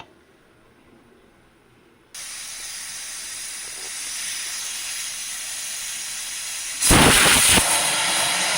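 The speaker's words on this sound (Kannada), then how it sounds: "ಈ ಕುಕ್ಕರ್ ಮುಚ್ಚಳ ಮುಚ್ಚಿಬಿಟ್ಟು 2 ವಿಜಿಲ್ ಬಂದರೆ ಸಾಕು" A loud, steady hiss of steam bursting from a pressure cooker cooking ghee rice, jumping sharply louder near the end as the whistle releases.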